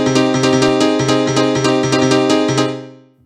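Bright Korg M1 house piano riff for '90s rave and Eurodance, both hands, with the right-hand chords leading the bass in a syncopated pattern. Loud, close and sustained, ending in a decaying ring.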